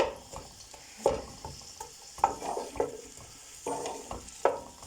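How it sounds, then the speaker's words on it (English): Prawns are stirred and turned in hot oil in a pan with onions, a steady sizzle broken by repeated scraping strokes of a utensil against the pan, close and clear. "mix thoroughly so that they're covered in oil"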